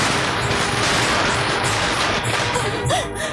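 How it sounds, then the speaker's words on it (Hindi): A dense, continuous crackle of firecrackers bursting in a film scene fills the clip, loud and rapid with no clear gaps. "वो देखो पटाखे भी फूट रहे हैं,"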